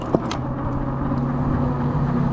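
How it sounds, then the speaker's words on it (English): A short sharp pop as an e-bike tire runs over a stick cracks over the steady hum of road and wheel noise while riding, followed by a fainter tick. "Now that popping noise you just heard, that was a stick."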